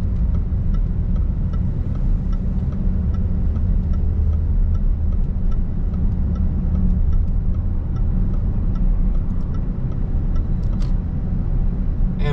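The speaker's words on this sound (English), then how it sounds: "I have to make sure I'm driving safely, so I don't put any life in danger, especially when you're vlogging" Steady car engine and road noise from inside a car cruising around the town of Portishead, a continuous close hum without speech.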